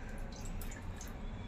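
Half a cup of water goes into melted jaggery in a pan, a quiet, brief patter of splashing and dripping with no talking.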